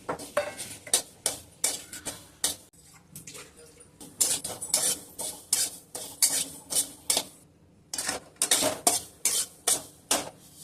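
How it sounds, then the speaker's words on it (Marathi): Poppy seeds dry-roasting in a pan while a spoon stirs them, with sharp metallic scrapes and knocks in a steady, repeated rhythm over a faint dry rustle, close and fairly loud, without any voices. "आपण खसखस पण भाजून घेऊया त्याला"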